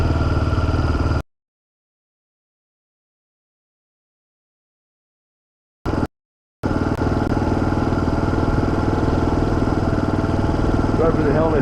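A motorcycle engine idles on sand with a steady, rumbling drone, cut off by two abrupt silent gaps before resuming; a voice talks over it.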